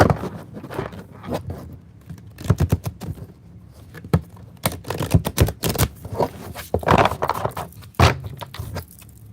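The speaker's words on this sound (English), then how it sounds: "let's shuffle the cards here" Someone shuffles a deck of cards at close range, producing bursts of rapid riffling and snapping card noise in irregular clusters, with short pauses between shuffles and no talking.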